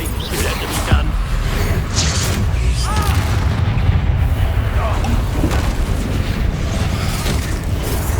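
An Incendio fire spell is cast in Hogwarts Legacy amid a battle, heavy booming blasts and crackling bursts rolling on loudly and continuously for several seconds alongside voices and combat noise.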